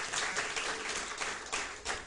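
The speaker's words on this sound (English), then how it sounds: "A round of applause for them, please." A round of applause for an eliminated school at a quiz competition, fairly faint and thin, with a few hands clapping in uneven bursts rather than a full roaring crowd.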